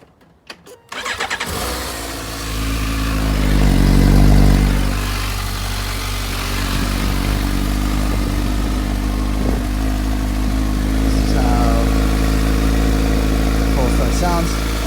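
A Suzuki GSX-S750 motorcycle with its stock exhaust cold-starts with a brief cranking whir, catches and revs up, then settles into a steady, fairly quiet idle, close by, with someone speaking briefly.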